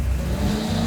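A garage-built 850-horsepower big block Chevy El Camino roars loudly and close for a brief, dense burst of engine noise.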